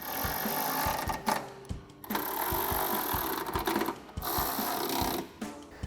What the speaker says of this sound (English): take your 10mm socket and we'll tighten all 3 of these